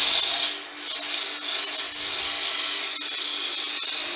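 A roughing gouge cuts very dry wood spinning on a lathe, giving a loud, continuous close-up rushing scrape with slight rhythmic variation as the blank is brought to round.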